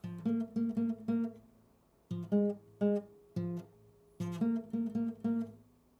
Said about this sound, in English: it kind of sounds something like this if I just play the bass by itself